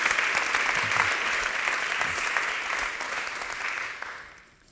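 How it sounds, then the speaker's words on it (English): Steady audience applause at an International Women's Day faith event, full and even throughout before thinning and fading out at the end, with no talk over it. "Let's first give a round of applause to Paul and Sabriye,"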